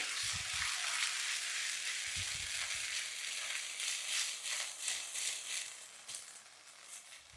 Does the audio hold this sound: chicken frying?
yes